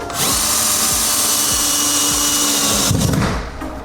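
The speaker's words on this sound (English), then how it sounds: "You can take the second screw and screw just below the stud screw." A power drill whines loud and close while driving a screw into a wall stud for mounting a 75-inch TV, a steady high-pitched run that cuts out sharply near the end.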